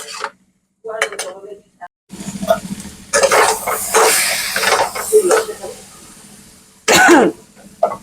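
Kabuli chickpeas being stirred and fried with spices in a pan for dhaba-style chole, giving a steady sizzle with scraping spoon strokes and a few clanks, mixed with bursts of throat clearing and coughing nearby.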